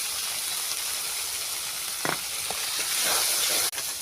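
Goat meat frying in spice masala for biryani sizzles steadily in the pot, a continuous close hiss with a few brief stirring scrapes and clinks partway through.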